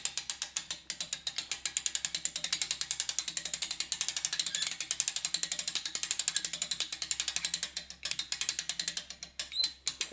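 Compound bow being drawn back on a homemade ratcheting draw board, a steady run of rapid, crisp ratchet clicks continuing throughout at close range with no talking.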